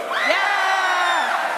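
Excited crowd of college football fans at a GameDay broadcast for Oregon vs. UCLA in Los Angeles, cheering and whooping loudly and steadily, with rising shouts layered throughout.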